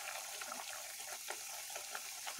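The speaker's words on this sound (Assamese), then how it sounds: "এইখিনি ভাজি থাকোঁতে" Malabar spinach greens sizzle steadily in a pan, a constant wet crackle with small pops and stirring scrapes throughout, faint and close.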